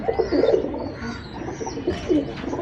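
Dubai pigeons cooing close by in a loft, a steady run of soft, throaty rolling coos with a few louder bursts, and no talking over them.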